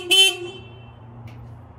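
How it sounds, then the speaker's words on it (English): A 1936 Chevy Coupe horn gives one short, harsh honk that fades quickly into quiet background hum. "Other thing near the front would be the horn."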